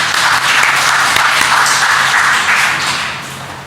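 A church congregation claps steadily together, a dense sustained wash of applause that holds and then begins to fade near the end.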